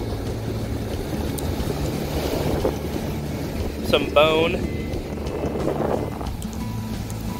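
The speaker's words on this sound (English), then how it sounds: "Sorry, it's so windy." Strong wind buffets the microphone on a Lake Superior beach, a steady rough roar with surf in the background, and a brief spoken remark midway.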